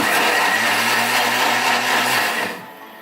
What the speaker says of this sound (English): Turn this to 10 for a quick blend.